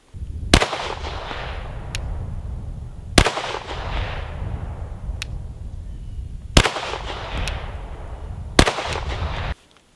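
Four pistol shots fired with an RMR red dot sight at an outdoor range, evenly spaced a few seconds apart, each a sharp loud crack followed by a long rolling echo, with no talking.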